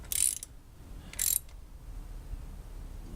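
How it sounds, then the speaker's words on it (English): A Husky ratchet clicks in two short, sharp bursts while tightening valve cover bolts, close and fairly loud over a quiet background. "This is a Husky ratchet, by the way."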